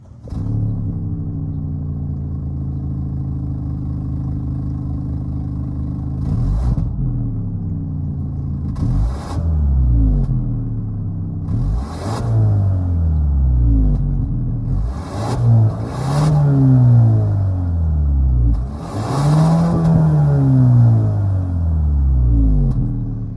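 A 2022 Kia Stinger GT-Line's 2.5-liter turbocharged four-cylinder starts and settles into a steady idle, then is blipped in a series of rising and falling revs that grow louder toward the end, heard close up from behind the car with no talk.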